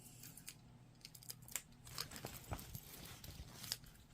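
Scissors picked up and handled at a cross-stitch session, a scatter of faint metallic clicks, snips and light taps spread unevenly over a few seconds, quiet and close with no voices.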